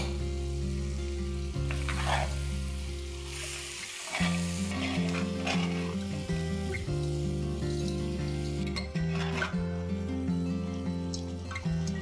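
Tomatoes and whisked yogurt sizzle and bubble in a pan of curry with potato and chicken, making steady frying crackle with soft stirring scrapes. A low drone runs underneath, and no one speaks.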